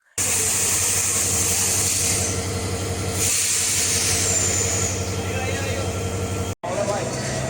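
Continuous rumble and hiss of a nonstop passenger train from Dhaka to Cox's Bazar, heard from inside a carriage, steady and loud, with a brief cut near the end.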